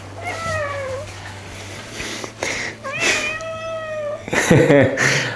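Several cat meows, some drawn out into caterwauling cries, come close and clear in an indoor room, with pauses between calls and a steady low hum underneath.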